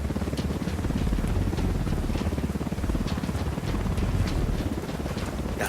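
Helicopter in the video game Ghost Recon Wildlands approaching, a steady loud rotor rumble with a broad whooshing roar that holds throughout, no talk over it.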